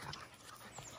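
Several dogs pant and whimper in a play yard, a steady close breathy rustle running through the whole second with no talking.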